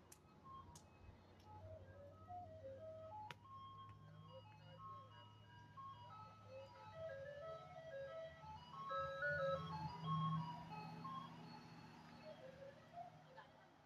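An ice cream truck in Poplar Bluff plays its tinkling jingle while driving away, the melody faint and distant, sliding in pitch with a Doppler effect over a low engine rumble.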